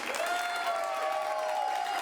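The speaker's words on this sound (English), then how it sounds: "let's start that polite round of applause" An audience claps in a polite round of applause to vote on a film at a live show, steady dense clapping throughout, with a faint sustained tone running under it.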